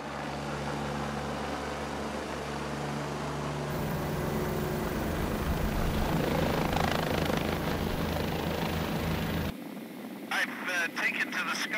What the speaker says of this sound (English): Taken to the skies in a helicopter